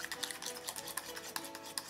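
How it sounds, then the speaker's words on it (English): Shortbread dough flavored with a few drops of passion fruit being stirred in a bowl, giving soft, steady scraping and light utensil clicks in a repeating rhythm, close and fairly quiet. "Mix it up."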